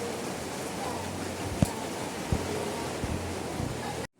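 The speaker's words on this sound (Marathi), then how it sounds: "हा बघा पडतोय नुसता केवढा जोरात आत्ता ऊन पडलेलं आणि आत्ता पाऊस आलाय" Heavy rain pours in a dense, steady roar of noise outdoors in a village, loud and continuous, with a couple of faint thumps before it cuts off.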